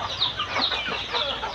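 Chickens cluck in a steady, close chatter of short overlapping calls, fed greens of water spinach mixed with vegetables; no one speaks.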